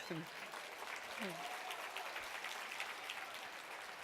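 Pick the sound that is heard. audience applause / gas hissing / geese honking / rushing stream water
audience applause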